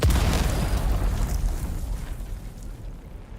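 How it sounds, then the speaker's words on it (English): A loud, booming explosion in the video game Dune: Awakening, with a heavy low rumble that rolls on and slowly fades, with scattered crackling debris trailing off. "So many explosions."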